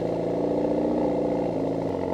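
A car's engine hums steadily during a short drive, a continuous mid-pitched drone with a slight shift in tone near the end, with no voices present.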